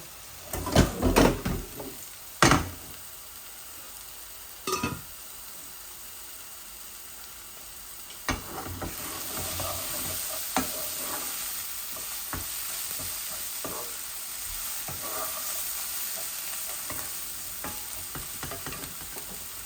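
Beans sizzle in a hot pan after a splash of water, with loud scraping stirs early on and a steady frying hiss continuing alone afterward.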